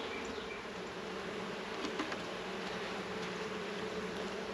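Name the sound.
agitated bees buzzing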